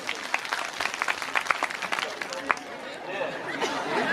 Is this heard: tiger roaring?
no